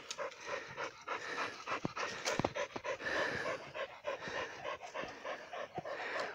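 Dogs pant rapidly and steadily up close, breathing in short rhythmic bursts with a few sharper whimpers and scuffs mixed in.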